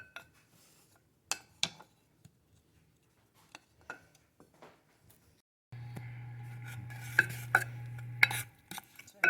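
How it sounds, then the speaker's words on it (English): Butter and brown sugar are stirred in a pan as they melt, with sparse spoon clinks and scrapes at first, then a denser stretch of utensil-on-pan stirring with a steady low hum beneath. "So now I have my butter and my cup of brown sugar that I'm going to melt and stir together."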